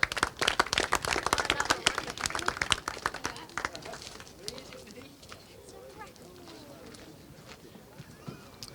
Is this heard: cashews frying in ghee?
no